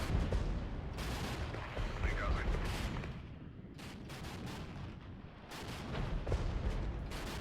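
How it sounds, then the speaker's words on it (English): Artillery fire in the real-time tactics wargame Regiments: a dense, continuous barrage of booming impacts and blasts, with repeated heavy thuds rumbling under a steady roar of battle noise throughout. "There's the artillery coming in."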